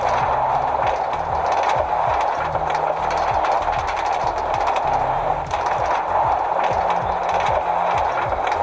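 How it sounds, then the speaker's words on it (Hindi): A train passing in the Minecraft video game, a steady loud rumble with repeated rhythmic clacks of wheels over rail joints running throughout, with no talk. "ट्रेन तो चली गई, हम लोग बचे हैं यहाँ पे।"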